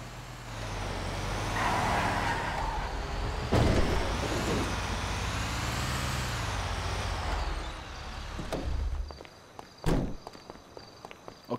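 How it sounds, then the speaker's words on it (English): A garbage truck in GTA V rumbles with a heavy engine drone and hiss of air brakes, its pitch wavering as it moves, with clunks and footstep-like thuds near the end. "Okay, we just delivered the garbage truck."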